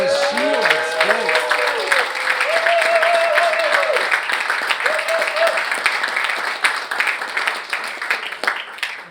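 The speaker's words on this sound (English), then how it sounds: "I just would like to have a huge round of applause of our fantastic translator," Audience applause for a translator at a football club seminar, clapping that builds and gradually thins, with a voice speaking over the start.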